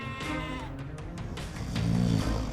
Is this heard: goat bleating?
yes